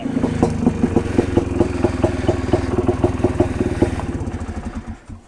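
A small ATV quad engine putters along at a steady, even rhythm, close and fairly loud, then fades away toward the end.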